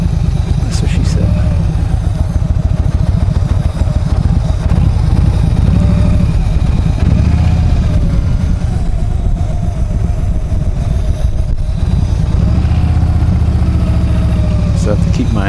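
Motorcycle with a front fairing doing donut practice, its engine held at steady high throttle with continuous loud mid-range drone and rising-falling pitch swells, while a person talks over it throughout.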